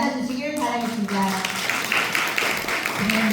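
Audience applause at a Democratic Party women's committee gathering in Heungdeok, Cheongju, welcoming the next speaker. Steady, dense clapping swells in after a brief spoken introduction and continues evenly to the end.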